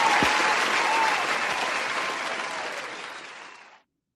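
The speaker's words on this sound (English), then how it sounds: "let's give a round of applause to our brother Mel." A convention audience claps steadily, loud and dense at first, then thins out and stops abruptly.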